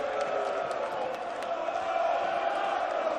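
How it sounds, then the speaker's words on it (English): At a Dutch Darts Masters final, a large arena crowd cheers and chants in a sustained, swelling roar, loud and continuous with scattered whoops rising above the din. "The crowd find their voice."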